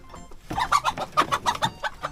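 A hen clucks up close as she is passed over during work on a new coop, giving a rapid series of about ten sharp, agitated clucks in quick rhythm.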